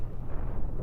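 A missile strikes a ship during space combat in the video game Cosmoteer, giving a short, muffled low boom that rumbles briefly and fairly quietly.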